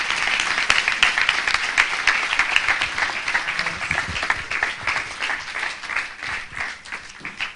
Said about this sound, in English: It'd be great if we could give one more round of applause to all of the speakers today.